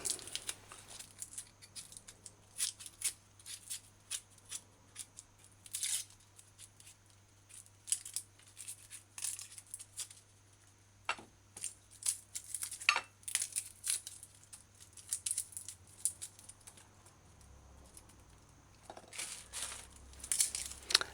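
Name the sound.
peeling and dicing an onion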